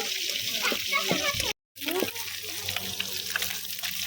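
Onions sizzle and crackle in a hot pan close by, a dense steady frying hiss broken by a brief cut, with a person talking over it.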